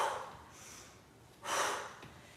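During a plank exercise, a person exhales forcefully through the nose and mouth in two soft, breathy puffs. Both are close but quiet, and no speech is heard.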